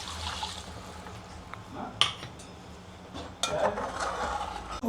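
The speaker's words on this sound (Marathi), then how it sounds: "मी पाणी टाकते आहे." Water is poured into a pan of fried masala for a katla fish curry, giving a soft liquid rush with a couple of splashing bursts and a light clink of cookware.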